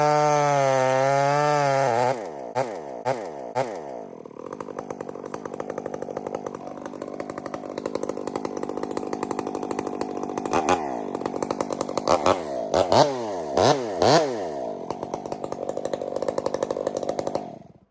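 A chainsaw bucks through wood and strikes steel buried inside it, running loud and close throughout, with the engine revving up and down in repeated surges and a few harsh bursts partway through the cut.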